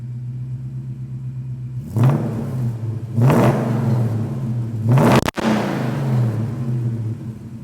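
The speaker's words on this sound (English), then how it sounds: "we're out taking this beautiful 55 F100 for a drive" A Coyote-powered 1955 Ford F100 restomod pickup engine hums steadily while driving, rising in three distinct revving surges as gears shift, with a sharp click partway through.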